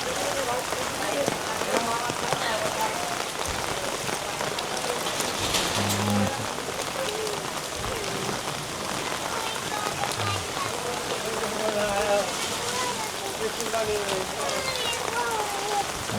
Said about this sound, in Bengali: এদিকে পুরো বৃষ্টিতে জলাবদ্ধতা হয়ে গেছে, এত পরিমাণ পানি জমছে, প্রায় 1 হাঁটু পানি হয়ে গেছে।